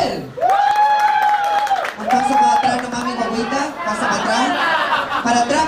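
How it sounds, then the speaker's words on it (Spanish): A studio audience at an impersonation contest semifinal reacts to a Cher impersonator with a mix of cheering shouts, chatter and light applause, voices rising and falling over scattered clapping. "Fuerte el aplauso para Cher."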